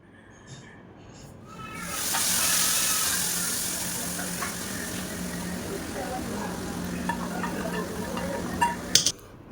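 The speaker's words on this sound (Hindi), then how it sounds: "कड़ी को मैंने तड़का लगा दिया था और तड़के की ये आवाज़ मुझे तो बहुत अच्छी लगती है" A sudden hiss rises into a steady sizzle as hot tadka is poured over kadhi, fading gradually with small crackles and pops toward the end.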